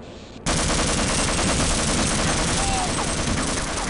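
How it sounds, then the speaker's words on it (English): Sustained rapid gunfire from a Half-Life game battle erupts abruptly after a brief quieter lead-in, a loud, dense burst of automatic shots continuing without pause, with talk mixed underneath. "I think I just shot one of the scientists."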